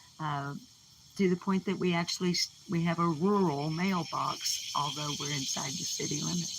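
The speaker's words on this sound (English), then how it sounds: "you can hear the cicadas in the background." Cicadas drone outdoors on the wooded outskirts of a town in Cleburne County, Arkansas, in the Ozark foothills, a steady high buzz running faintly underneath a person speaking throughout.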